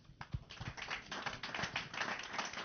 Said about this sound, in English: give the panel a great round of applause